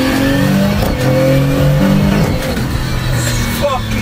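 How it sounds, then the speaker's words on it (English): A 2000 hp Nissan Patrol with a sequential airshift gearbox, revved hard and shifted without a clutch: a loud engine roar climbs and drops in pitch with each gear change, while voices talk over it. "I love the sound of the fucking sequential. Hear that?"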